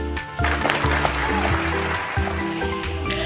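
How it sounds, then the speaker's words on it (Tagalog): Children applaud themselves with fairly loud, continuous clapping laid over a steady background music bed. "Mga bata, bigyan natin ng palakpak ang inyong mga sarili."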